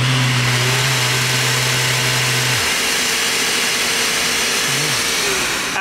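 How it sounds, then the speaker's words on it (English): A Mirka DEOS variable speed electric sander runs with a steady high whine, then its pitch drops and shifts as the speed is changed, loud and close without talk. "when I run the sander"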